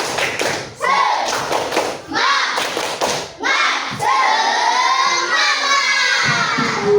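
A fifth-grade class claps in rhythmic bursts and shouts together in unison during a classroom spirit-check cheer, with loud group voices over the clapping.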